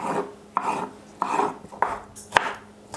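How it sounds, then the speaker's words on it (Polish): Repeated knife chops through a bell pepper on a cutting board, five or six sharp strokes at an irregular pace, close up, with soft scraping between them. "I zabieram się za pokrojenie papryki"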